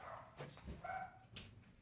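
Several dogs barking behind a closed door, faint and muffled, with a few short barks and yips spread over a couple of seconds.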